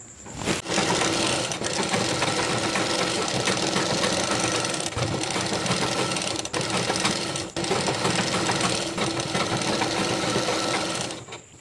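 Sewing machine stitching a folded one-inch hem on a nighty, running steadily and loudly for nearly the whole stretch with a few brief pauses, no voices.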